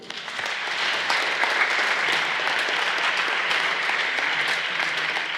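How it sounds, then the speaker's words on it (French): A church congregation claps steadily together at an Easter Mass for several seconds, a sustained even wash of applause in a reverberant room, with no voices standing out. "On peut les applaudir."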